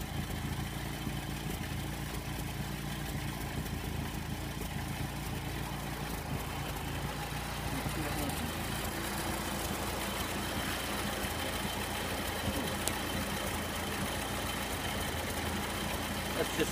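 A Sunbeam Alpine engine runs at a steady idle, a faint, even, low rumble that holds unchanged throughout.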